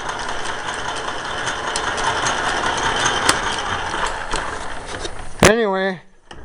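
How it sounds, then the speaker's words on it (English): A metal lathe runs in back gear in reverse with a steady mechanical whir and gear noise, then a sharp clunk followed by a falling whine as it spins down, with someone talking. "I gotta show this guy how to set that lathe in back gear."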